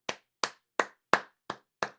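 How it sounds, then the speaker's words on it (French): Six slow, evenly spaced handclaps ring out in a quiet space, each one sharp and isolated, with no crowd or voices around them. "je vous demanderai s'il vous plaît d'applaudir."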